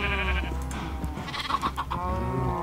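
A Minecraft sheep bleats through a short, steady stretch of game sound, with several wavering bleats up close over a constant background.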